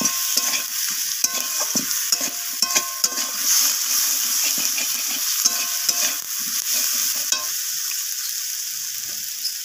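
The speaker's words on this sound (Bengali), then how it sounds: "রসুন বাটাটা দিয়ে আমি সব কিছুর সাথে কষিয়ে নিচ্ছি।" Garlic paste frying with spices in a pan for a spicy surmai fish curry, a steady loud sizzle with repeated scraping stir strokes and a few clinks, no talking.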